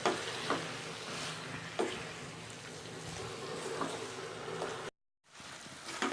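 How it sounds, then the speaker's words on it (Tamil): Chicken pieces coated in masala sizzle steadily in a pan for a chicken gravy while being stirred, with occasional scraping strokes and a brief break in the hiss. "சேர்த்துட்டு நல்லா ஒரு வாட்டி மிக்ஸ் பண்ணி விட்டுக்கலாம்."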